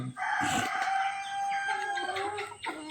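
Rhode Island Red chickens and roosters on a farm raised for brown egg production. A rooster crows loudly and nearby, with hens clucking around it and no voices over them.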